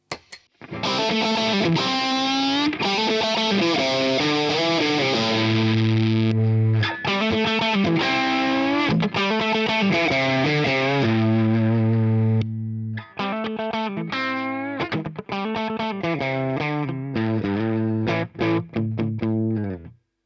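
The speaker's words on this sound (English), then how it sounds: "Let's do saturated versus non-saturated on the same riff." Electric guitar riff through a Peavey Decade overdrive pedal, thick saturated tone with sustained chords and chugging low notes, played loud and continuous.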